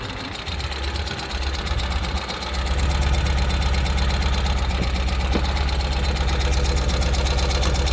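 A 2024 Ural Gear Up two-wheel-drive sidecar motorcycle engine running while riding, a continuous low throbbing drone that swells louder after the first couple of seconds and then holds steady and close.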